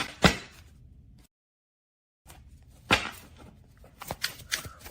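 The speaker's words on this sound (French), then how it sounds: "Attends, on déplace ces cartes très vite." Playing cards are shuffled and slid about quickly in soft, papery rustles and flicks, quiet and close, with a short silent gap between bursts and a busier run of quick snaps at the end.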